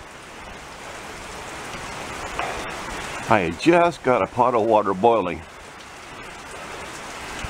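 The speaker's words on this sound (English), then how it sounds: "it's kind of a rainstorm here today." Steady rain hisses in the background throughout, with someone speaking briefly partway through over the constant patter.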